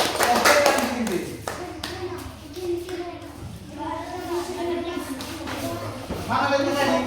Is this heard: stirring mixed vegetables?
no